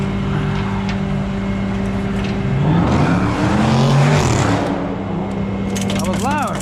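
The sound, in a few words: loud vehicle passing, sounds like a Mopar Jeep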